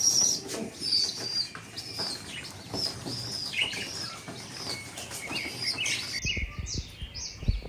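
Pigeon wings flap in quick bursts alongside chirps and coos, with the birds nearby and fairly loud throughout and no voices present.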